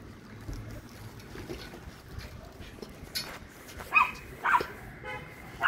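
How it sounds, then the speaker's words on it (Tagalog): A few sharp dog barks ring out near the end over faint background noise, coming in a short series of separate yelps. "Maingay yung aming aso."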